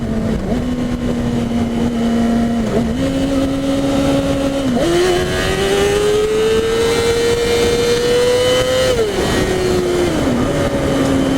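A 2014 Yamaha R6 sport bike engine screams at very high revs near redline, climbing through gears with brief dips at shifts, loud and close throughout with no talk.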